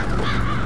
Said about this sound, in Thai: ไม่มีอีกากินศพเคิร์ก